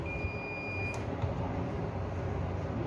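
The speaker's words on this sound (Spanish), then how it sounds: "Y obviamente empieza a sonar la alarma también." A high electronic alarm tone from an egg incubator sounds steadily for about a second and then cuts off, over a constant noisy machine whir.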